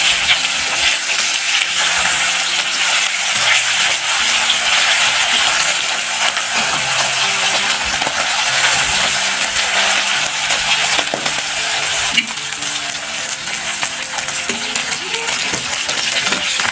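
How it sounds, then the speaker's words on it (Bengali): Chanda fish fry in oil in a pan with a loud, continuous crackling sizzle that stays close and constant throughout, and no voices are heard. "মাছের এক পাশটা 2-3 মিনিট ভাজার পর মাছগুলোকে পাল্টে অন্য পাশটাও ভেজে নেব।"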